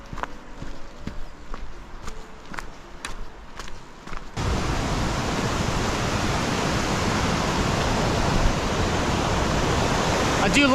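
A rushing river flows near a trail bridge on the Pacific Crest Trail. Sparse footsteps give way to a loud, steady broadband roar of water that holds close and constant.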